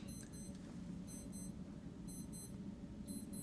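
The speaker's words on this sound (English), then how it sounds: "Somebody's alarm's going off." Repeated bursts of high electronic beeping from a small alarm, in quick pairs roughly once a second, faint over a steady low background hum.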